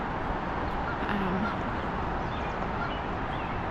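Two geese honk by a city riverbank, with a few faint calls that are partly masked by steady broadband wind and traffic noise.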